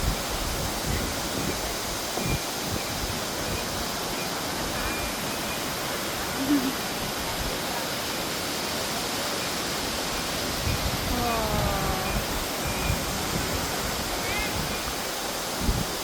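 Tinuy-an Falls in Bislig, Surigao del Sur, roars as a steady, dense rush of falling water heard close up, with faint voices and a bit of laughter surfacing now and then over the constant spray.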